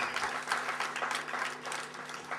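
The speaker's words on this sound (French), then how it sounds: "Vous pouvez applaudir bien fort" A local gathering bursts into applause for a young performer with a guitar, a full crowd clapping in a steady, dense wash that swells and dips slightly, with no speech over it.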